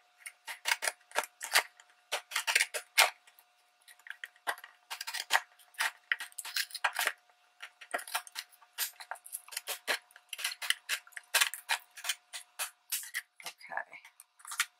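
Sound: deckle scissors cutting through glued packaging

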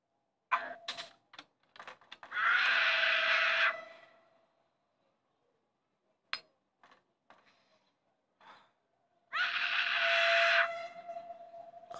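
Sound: child screaming in the video game Hello Neighbor

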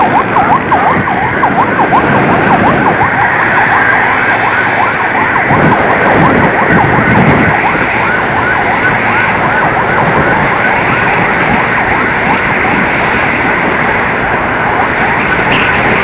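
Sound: two ambulance sirens on expressway

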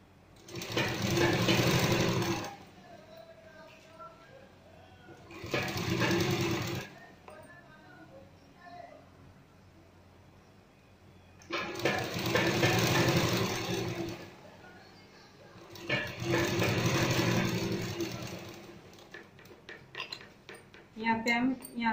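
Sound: sewing machine stitching a sleeve

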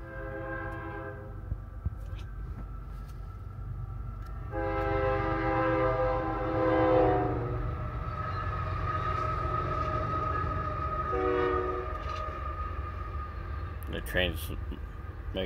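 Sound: train passing and sounding its horn

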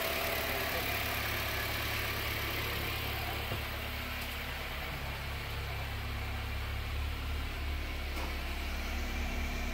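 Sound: used car engine idling

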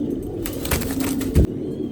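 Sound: pigeon cooing

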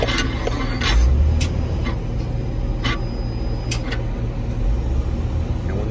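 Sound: Freightliner Cascadia DD15 intake throttle valve moving, ignition on

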